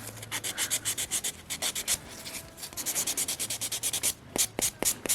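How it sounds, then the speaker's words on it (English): A buffing block rubs over dip-powder nails in quick repeated scrubbing strokes, close and rhythmic, with short pauses and a few sharper strokes near the end. "Let me bring my other buffing block."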